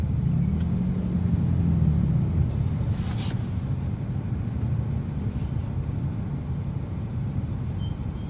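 Bumper-to-bumper road traffic, a steady low rumble of idling and creeping vehicles that runs continuously and fairly close, with no talk over it.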